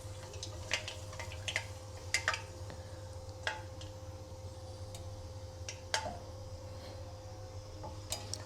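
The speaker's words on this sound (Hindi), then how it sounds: "इसे हमें 1 मिनट फ्राई कर लेंगे मेथी दाने को" Fenugreek seeds frying in hot oil, a steady close sizzle with sharp scattered pops and ticks from the seeds, over a constant low hum.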